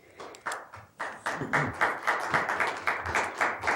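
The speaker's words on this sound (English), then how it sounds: "I would ask that folks be respectful of time in terms of clapping" Audience applause at a county commissioners' meeting, a sustained crowd clapping that starts scattered and builds into steady, fairly loud, dense applause with no talking over it.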